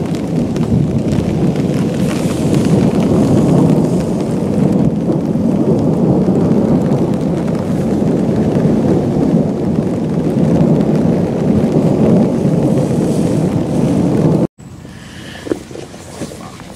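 Heavy rain pours steadily in a strong storm outdoors at a public lake in France, a dense continuous roar with low rumble throughout, cutting out abruptly near the end to a quieter background.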